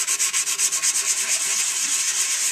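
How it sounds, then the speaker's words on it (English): A Boba Fett helmet is wet-sanded underwater in circular motions, giving a fast, regular rasping rub that pulses in quick strokes, close and fairly loud with no voices. "You want to submerge it in the water and start sanding the helmet."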